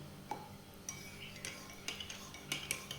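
A spoon clinks and scrapes against a bowl while stirring pizza dough mixture with added olive oil, several light irregular knocks over a low background hum.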